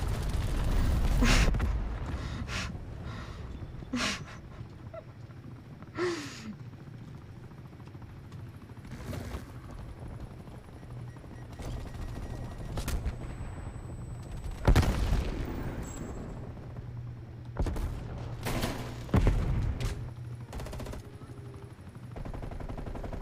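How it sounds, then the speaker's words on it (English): Gunfire and explosions from a video game with an enemy cruise missile launch, several loud booming bursts and rattling shots scattered across the clip, with some talk mixed in. "Enemy cruise missile"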